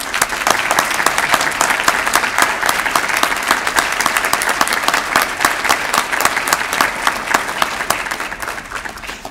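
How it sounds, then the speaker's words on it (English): A large audience at a community report event breaks into loud, sustained applause, dense clapping from many hands that carries on evenly throughout. "let's give them all a round of applause."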